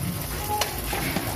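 Water added to a cooking pot of fish soup with spinach, a brief, close sizzle and bubbling splash with a sharp clink partway through.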